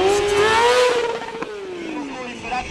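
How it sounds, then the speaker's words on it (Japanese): A motorcycle engine roars at high revs during a drift burnout circle at a driving school stunt show, pitch sliding downward as the bike spins, with a commentator talking over it. "迫力のドリフトバーンアウトサークル、白煙が会場を支配していく"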